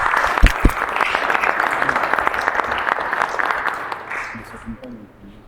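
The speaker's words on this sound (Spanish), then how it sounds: "Recibamos por favor al doctor Pedro Ponce Habana con un aplauso" An audience in a congress hall breaks into applause to welcome a speaker, dense clapping rising sharply and holding before tapering off near the end, with a voice briefly heard over it.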